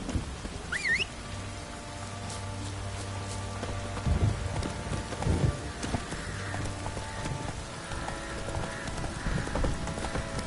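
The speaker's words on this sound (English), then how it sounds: "Run, Roach." Horse hooves clip-clop through rain in The Witcher 3, a soft, irregular trotting rhythm under steady pattering rain and ambient game sound, moderately quiet throughout.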